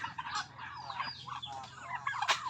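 Turkeys gobble in rapid, warbling bursts, several birds overlapping nearby with a sharper cry near the end.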